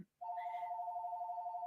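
A telephone rings with a steady, warbling electronic tone that starts abruptly after a brief silence and continues evenly and clearly, with no other sounds.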